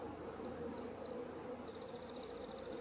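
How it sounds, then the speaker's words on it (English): Honeybees inside a nuc box make a faint, steady buzzing drone with a few brief higher whines from individual bees passing close. "in our box, we have some bees in the bottom"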